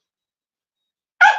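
A single short bark from a dog named Misty bursts out after silence, loud and close, trailing off quickly.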